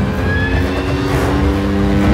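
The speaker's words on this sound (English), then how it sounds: "I do it by sound and feel of the bike" Motorcycle engine running loud and steady during a stunt ride on the set of Mission: Impossible – Dead Reckoning Part One, a constant close engine drone with wind rush for about two seconds, no talking.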